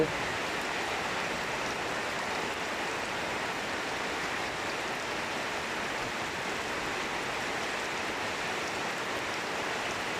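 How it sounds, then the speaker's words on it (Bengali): Heavy night rain falls over Paruliya union in Kashiani, Gopalganj, as a dense, unbroken hiss that stays steady and even throughout with no other sounds. "প্রচণ্ড পরিমাণে বৃষ্টি নামতেছে।"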